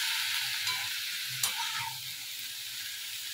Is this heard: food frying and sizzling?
yes